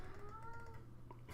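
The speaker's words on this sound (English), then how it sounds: "Oh, I've got a kitty here." A house cat lets out a short, faint meow, a thin rising-and-falling cry against a quiet room hum.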